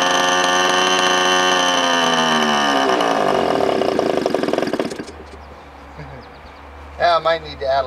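Nitro engine on a Top Flight P-51D Mustang model airplane, first start in eight years, screams loudly and slows as its pitch falls, then cuts out, leaving quiet with someone talking afterward.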